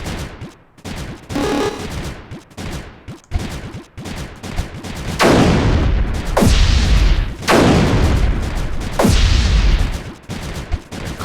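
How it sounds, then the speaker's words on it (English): Cannons in the Creeper World 3 video game firing repeatedly, sharp percussive blasts building into heavy booming volleys with rumbling decay, loud and up front. "let's build some cannons."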